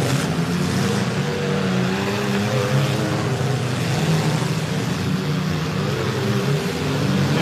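Demolition derby cars rev their engines together at the Wreck in Pec 2021 event, a dense, continuous roar of throttled motors filling the whole stretch at steady high volume, with no talk.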